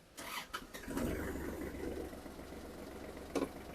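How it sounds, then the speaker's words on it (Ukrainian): A Kubota GL27 tractor engine cranks briefly and catches, settling into a steady low rumble at idle with a couple of clanks. "Витискаємо щеплення і заводимо трактор."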